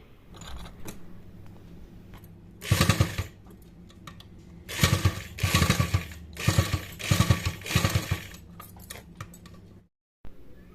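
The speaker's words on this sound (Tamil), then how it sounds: "நான் ஆனால் டக்குன்னு தைக்கிறேன்." A sewing machine runs in several quick bursts while stitching cloth for a homemade mop, each short run of rapid needle clatter separated by pauses with small handling clicks, close and fairly loud, with no talk.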